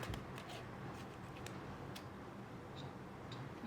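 Cards being drawn and handled from a Lenormand deck during a tarot reading, producing soft, quiet rustles and light ticking flicks that run steadily with no talking.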